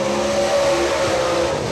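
A race car on a qualifying lap at Atomic Speedway roars past loud and close with a steady high engine drone, running at full throttle through the whole short burst.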